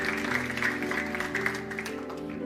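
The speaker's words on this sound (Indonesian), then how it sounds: "Mari kita beri tepuk tangan untuk Tuhan." A church congregation claps together in a sustained burst of applause during worship, the sound steady and fairly close with no speech over it.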